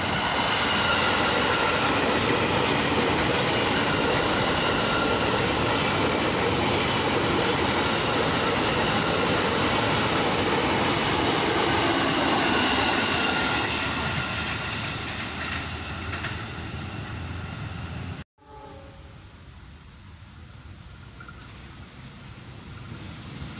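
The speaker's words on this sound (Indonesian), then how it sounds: "KRL komuter lain lagi nih" A KRL Commuter Line electric train rolls past close by with a loud, steady rumble and clatter of wheels over rails that slowly fades, then cuts abruptly to quiet ambience.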